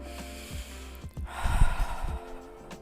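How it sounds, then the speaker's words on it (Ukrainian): A person doing a pelvic floor and abdominal exercise lets out a soft breathy exhale from the throat with relaxed lips. It is a single gentle, close whoosh over quiet room noise. "Краще видих робити з горла з розслабленими губами"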